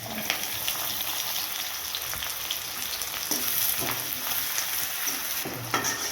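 Onion and chili frying in hot oil with cumin for chili paneer masala, a dense continuous sizzle heard up close with a few stirring scrapes and no voices.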